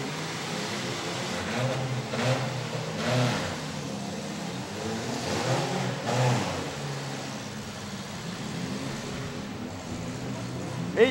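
Demolition derby car engines rev and roar at a county fair derby, a steady mid-pitched drone with surges of revving, heard amid crowd noise and an announcer's voice.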